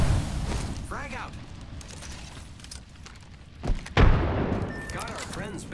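A frag grenade goes off in Apex Legends as a deep boom around the midpoint, with a second burst just after. Gameplay noise and mechanical clicks run underneath.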